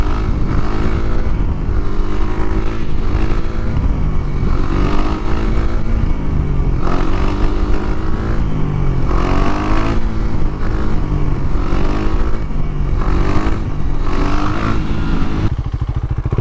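A KTM Duke 390 motorcycle revs hard while riding wheelies, its engine rising and falling in repeated surges of throttle. The sound is loud and continuous, with rattling from a helmet-mounted camera setup and wind noise.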